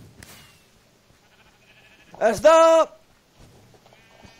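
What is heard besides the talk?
sheep bleating in minigame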